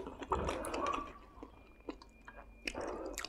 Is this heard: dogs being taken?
no